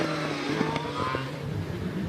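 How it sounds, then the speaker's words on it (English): The DJ Firestorm hillclimb car with its Cosworth XD V8 screams up the hill at Harewood, a loud, close, harsh engine note with rapid rising revs and quick gear changes. "Alex Summers on the hill now in the DJ Firestorm. This runs the Cosworth XD V8."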